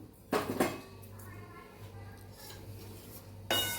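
Sesame seeds tipped into a kadai for roasting, a couple of sharp metallic clattering bursts near the start and again at the end with quieter scraping between, close and moderately loud.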